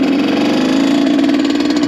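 A modified 82cc Honda CR supermoto motorcycle sits idling to warm up, its single-cylinder engine puttering in a loud, steady, close rhythm with no voices.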